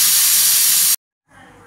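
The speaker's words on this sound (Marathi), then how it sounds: "टोमॅटोची प्युरी केलेली आणि तांब्याभर पाणी मी ओतून घेतलं." Tomato puree and water hit a hot pan with a loud, close, steady hiss that cuts off abruptly, followed by silence and then a faint simmering sizzle.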